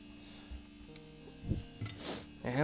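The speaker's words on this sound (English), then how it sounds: "I got about another minute on my ultrasonic cleaner over there from previous repair." An ultrasonic cleaner runs at a workbench during late-night circuit board repair, giving a steady electric hum with a faint buzz that stays level throughout, with brief clicks and low handling noises over it.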